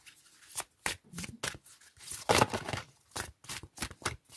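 Tarot cards are shuffled by hand in a series of quick, crisp riffling bursts, close and fairly loud, with brief pauses between them.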